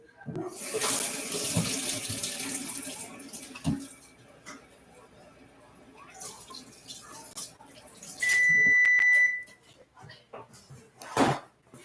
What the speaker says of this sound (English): first thing I'm going to do is wash my hands